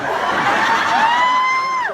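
A large audience at a Sam's Club corporate general session cheers and whoops loudly and continuously, with one high rising-and-falling yell standing out before the noise drops away at the end.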